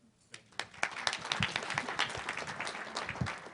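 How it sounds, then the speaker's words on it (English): A youth debate audience at a symposium claps together in a brief burst of applause, scattered hand claps building into a dense, moderately distant patter that holds steady. "I think you should all give yourself a round of applause"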